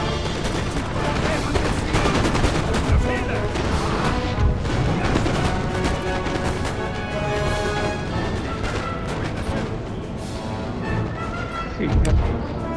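Musket volleys crackle through a battle in Napoleon: Total War, dense overlapping gunfire with occasional heavier booms, loud and continuous for the whole stretch.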